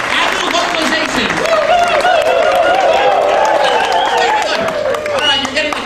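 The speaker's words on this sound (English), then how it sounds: "Clap, and clap, and clap, and rest." An audience at a live show claps along on cue in loud, dense bursts, blended with crowd noise and voices.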